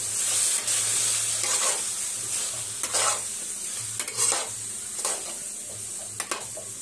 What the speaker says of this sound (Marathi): बटाटा स्वच्छ धुवून त्याचे काप करून घेतला आहे। वांगीही तसंच केलं आहे।